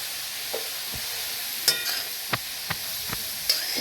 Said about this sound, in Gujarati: આપણે આ રીતે સરસથી ગાજરનો ખમણ એકદમ સરસથી ઘી સાથે મિક્સ થઈ જાય તે રીતે આપણે હલાવી લેવાનું છે